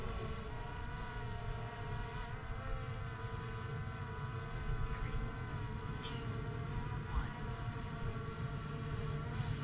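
A DJI Mavic Air 2 drone in flight gives off a steady, continuous whine of moderate loudness for the full length, with no talking.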